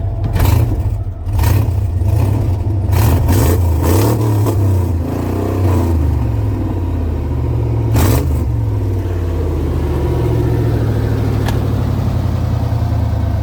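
A fuel-injected Chevy OBS truck engine, bought at a tow-yard auction, revs repeatedly at close range, rising and falling between throttle blips and a rough idle, loud with no talking.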